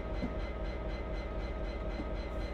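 A freight train runs steadily on a British railway line in Train Simulator, its wagons giving a constant low rumble with faint rhythmic clatter, close and alone without talk.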